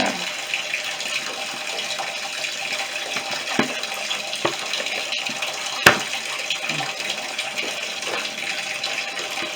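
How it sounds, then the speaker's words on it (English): Tap water runs steadily into a bathtub being filled, a continuous close hiss and splash with a few faint knocks over it. "stop up the tub, run some water"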